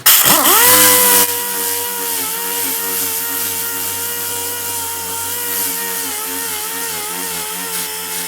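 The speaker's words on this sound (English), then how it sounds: "I'm going to go ahead and go over this with an 80 grit on my DA." A dual-action air sander with 80-grit paper runs up and whines at a loud, steady pitch while grinding over sheet metal, close and continuous with slight wavering in tone.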